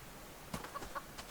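A chicken in the survival video game Subsistence clucks in a few short, close bursts over quiet background noise, with no talking.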